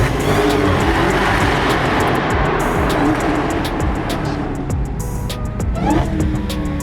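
A loud Dodge Hellcat engine roars steadily with a high supercharger whine layered on top, echoing inside a tunnel, then eases slightly toward the end.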